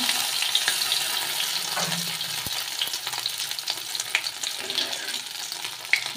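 Cumin, ginger and other spice pastes fry in a pan with a steady close sizzle, stirred now and then with soft scraping, no voices.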